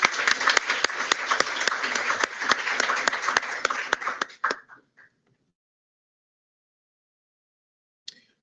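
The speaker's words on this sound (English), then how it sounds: "We'll still give Brooke a round of applause." A room gives a round of applause at a public board meeting for a newly elected student association president: a dense, steady burst of clapping for about four and a half seconds, then it breaks off into silence with one faint late clap.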